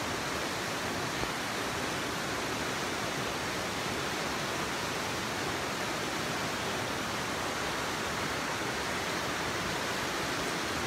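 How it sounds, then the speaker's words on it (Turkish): Atizi waterfall pouring continuously, a dense, even roar of falling water heard close and loud throughout with no pauses. "İşte bakın en güzel şelale burada."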